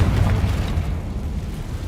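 Explosion from the Confringo spell in the Hogwarts Legacy video game: a single loud, deep boom that rumbles and fades over about two seconds.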